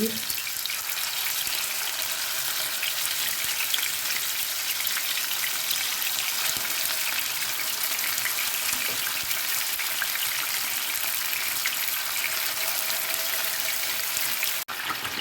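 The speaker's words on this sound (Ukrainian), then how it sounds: "Підсмажую з усіх боків, щоб рум'яні були гарненькі мої рулетики." Mushroom and cheese stuffed rolls fry in a hot pan, making a loud, continuous sizzle and spatter for the whole stretch, with a single sharp click near the end.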